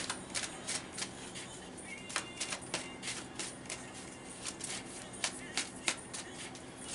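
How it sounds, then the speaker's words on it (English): A Hidden Oracle card deck is shuffled softly, giving light, irregular clicks and flicks of the cards over a faint hiss, with no talking. "and we shuffle and pull from this deck."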